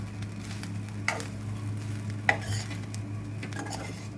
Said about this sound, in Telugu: కొత్తిమీర వేసి ఒకసారి మిక్స్ చేద్దాం